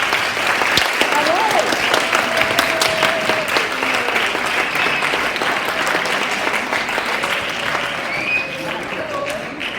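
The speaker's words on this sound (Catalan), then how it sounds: "així que un fort aplaudiment" A school audience gives steady, sustained applause at a student rhapsody and song event, dense clapping that holds at an even level for about ten seconds, with faint voices mixed in.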